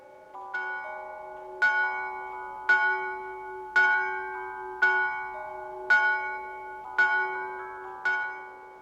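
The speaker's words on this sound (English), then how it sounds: "the chimes of a neighbouring church struck" A neighbouring church's bells strike the hour in a Christmas Carol audio drama, a clear ringing bell stroke repeating at a steady, slow pace, about eight strokes in all, each one ringing out and decaying before the next.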